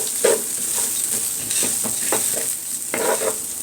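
Rice being stirred in a pan before broth is added, soft scraping strokes of a spoon against the pan over a steady light sizzle, repeated in an uneven rhythm.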